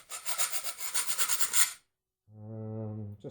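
A hand file rasps repeatedly across a Cuisinart food processor blade, a quick run of close scraping strokes, then a pause and a brief steady hum.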